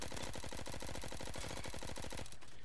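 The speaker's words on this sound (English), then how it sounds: "this is the starter SMG. Like you shoot really fast" A starter SMG in an online shooter fires one unbroken rapid string of evenly spaced, punchy shots for about two seconds, close and loud, and then stops abruptly.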